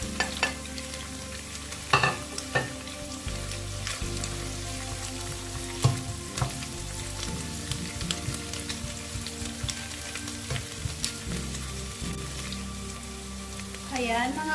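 Onions sizzling and frying in a pan for pork adobo, a steady crackling hiss with occasional stirring scrapes, close and fairly loud, with no talking.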